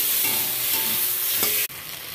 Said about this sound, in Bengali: টমেটো কুচি আর লবণ দিয়েছি, এবার ভালো করে নেড়ে চেড়ে কষিয়ে নিচ্ছি